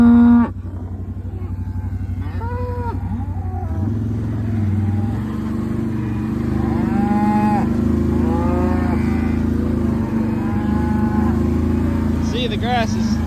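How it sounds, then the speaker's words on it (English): A herd of cows moos repeatedly on a farm in Mouso in the morning, several drawn-out calls near and far over a steady engine hum, while a person talks. "Another good morning to the cows here in Mouso."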